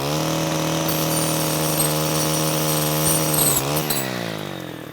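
A string trimmer fitted with a brush cutter blade cuts dry wood, with a steady loud high-pitched engine whine that strains and then winds down near the end.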